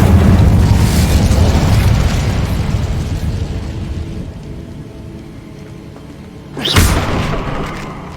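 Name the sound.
Incendio fire spell blast in video game Hogwarts Legacy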